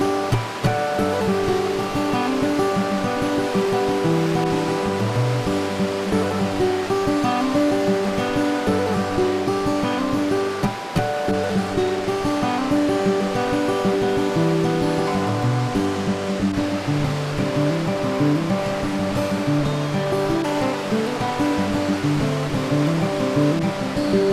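Presque Isle River waterfalls near Lake Superior, a steady, full roar of rushing water that continues unbroken throughout, close and loud with no voices.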